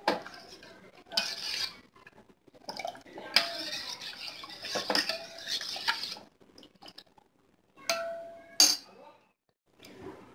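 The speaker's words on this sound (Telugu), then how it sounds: "స్పూన్తో కలుపుతూ ఉండాలి," A spoon stirs ragi porridge as it heats in a pot on the stove, giving irregular clinks and scrapes against the metal in several bursts with quiet pauses between them. No voices can be heard.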